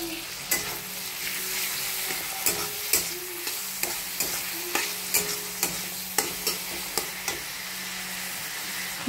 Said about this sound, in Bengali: এবার এর মধ্যে আমি টমেটো কুচিগুলো দিয়ে দিলাম।